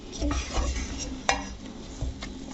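Churro dough of water, salt, sugar and butter being stirred in a pot, with soft scraping strokes and a few sharp utensil clinks against the pan, close and fairly quiet.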